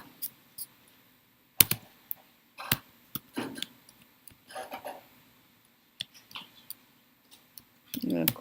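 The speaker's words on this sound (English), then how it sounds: "now it's just about typing it correctly" Computer keyboard being typed on while code is entered during a petroleum engineering lecture on root finding; sparse, irregular clicks and short bursts of keystrokes, fairly close and quiet, with pauses between.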